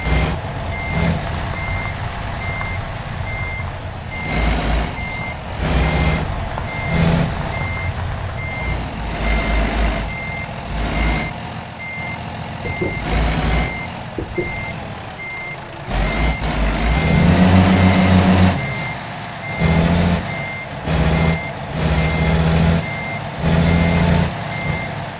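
A truck in American Truck Simulator reverses on a rough Mexican road from Jesus Maria to Valparaiso, its backup alarm beeping in a steady repeating rhythm over a loud engine rumble.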